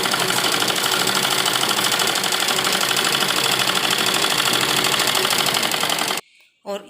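Sewing machine stitching lining fabric for an A-line palazzo, a fast, even mechanical rattle running loud and close, then stopping abruptly before a short final burst.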